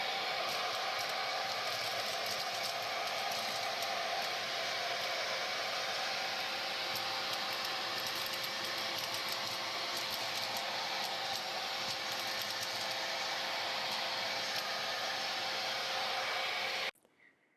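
A mini 1.5 gallon shop vac cleaning cutouts from a Glowforge crumb tray, a steady rushing suction roar holding for about seventeen seconds before switching off.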